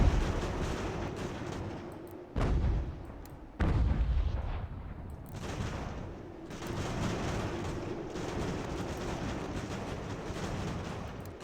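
Artillery guns firing in the video game Ultimate General: American Revolution, with heavy booming cannon reports rolling over a continuous battlefield rumble. Two distinct loud blasts land near the start, followed by sustained distant firing.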